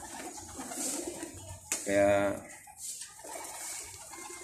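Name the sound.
racing pigeon cooing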